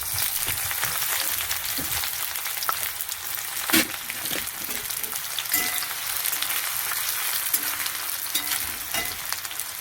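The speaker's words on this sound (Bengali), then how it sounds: "কড়া তেল গরম হয়ে গেছে, তেল দিয়ে দিয়েছি, পেঁয়াজ দিয়ে দিচ্ছি" Chopped onions fry in hot oil in a kadai, giving a dense, steady sizzle with occasional stirring scrapes and clicks. The sound is close and continuous, with no talking.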